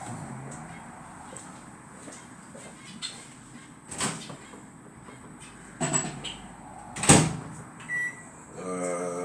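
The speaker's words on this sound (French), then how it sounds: "je vais mettre ça au micro-ondes" A microwave oven is set and started in a home kitchen: soft clicks, a sharp door slam, handling clatter and a rising electronic hum near the end, under quiet background noise.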